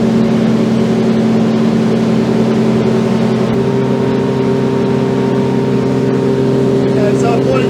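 A Seaking Hunter 720 boat's outboard engine runs hard at around 4600 rpm at cruising speed, a loud, steady, close drone with constant water rush and no letup.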